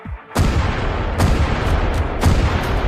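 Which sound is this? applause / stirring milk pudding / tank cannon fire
tank cannon fire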